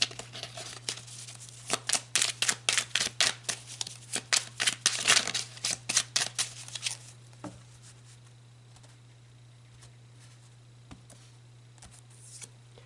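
Tarot cards are shuffled in a quick run of crisp riffling bursts up close for several seconds, then give way to quiet with a few faint soft taps.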